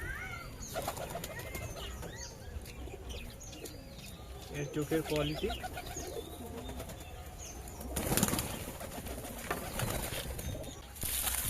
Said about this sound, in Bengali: এই দেখো পায়রাটা গিরিবাজ পায়রা ভালো কোয়ালিটির পায়রা আছে